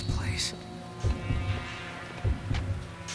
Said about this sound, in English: Right now we can hear a heartbeat that is growing louder as we approach the enemy.